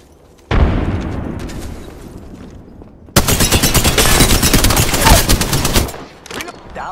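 A frag grenade explosion and gunfire in the Apex Legends video game, a loud boom followed by a sustained, dense burst of rapid gunfire, close and dominant before fading.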